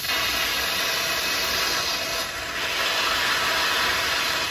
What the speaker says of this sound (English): And what the towel does is keeps the steam from being so much all at one time.